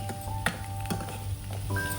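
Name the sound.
frying curry leaves and chopped onion in oil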